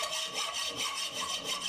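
A hacksaw cuts excess steel from a knife blade clamped in a vise, giving steady rhythmic rasping strokes, close and continuous, with no voices.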